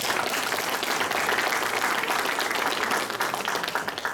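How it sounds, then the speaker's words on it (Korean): Audience applause fills a lecture hall during a talk on surviving the AI era, steady dense clapping from many hands throughout, easing slightly near the end. "이게 마음에 들면 박수 부탁합니다"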